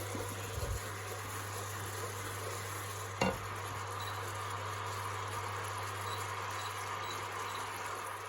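Coconut oil and fresh-squeezed coconut cream fry in a pan until the oil splits, a soft, steady sizzle with faint stirring and one brief clatter, heard quietly over a low constant hum.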